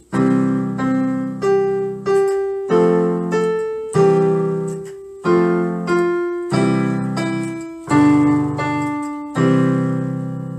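Piano chords struck one after another at an even, steady tempo set by a metronome, each ringing briefly before the next, with no talking.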